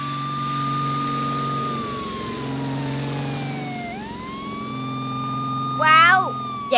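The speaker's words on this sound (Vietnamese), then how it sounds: "vì trong xe cứu thương có hú còi, là có người cần cấp cứu" Ambulance siren in a Vietnamese 3D animated cartoon about yielding to emergency vehicles: a clear wailing tone that sweeps slowly down and back up over a low engine hum, followed by a brief burst of cartoon voice.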